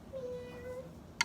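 A person's voice imitates a cat's meow with one drawn-out, steady, fairly quiet meow-like cry, ending in a brief sharp noise.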